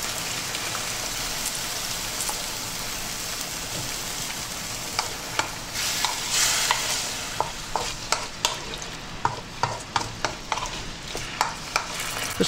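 Chinese pork sausage and vegetables stir-fry with light soy sauce in a hot pan, giving a steady, dense sizzle; rhythmic spatula taps and scrapes join in and quicken toward the end.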